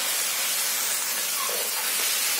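Tomatoes fry with onions in a pan, giving a continuous close sizzling hiss that stays even throughout.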